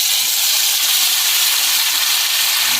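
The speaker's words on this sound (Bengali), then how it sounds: "আমরা ফার্স্ট একখানা মাছ ছাড়ছি" A fish hisses and sizzles loudly and continuously after being dropped into hot oil in a small wok at a rainy campsite, a close, bright, unbroken frying noise with no talking.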